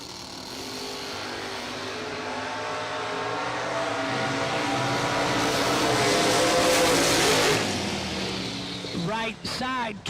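At a bracket drag racing event, cars including a Roadster launch and roar down the strip, a loud engine rumble that swells toward the middle and then fades, under steady announcer commentary.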